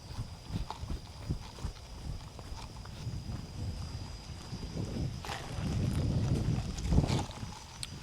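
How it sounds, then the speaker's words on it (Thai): Horses walk at a stables garden in Vientiane, Laos, their hooves clip-clopping in an uneven, moderately close rhythm over a constant outdoor hum, growing busier toward the end. "แล้วก็มีม้าอยู่ประมาณ 4-5 ตัวอยู่นี่"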